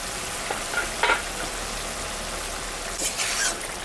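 Fish curry gravy for an aila (sea fish) curry simmers in a covered pan, giving a steady, fairly loud bubbling hiss with a few louder spitting bursts and stirring scrapes.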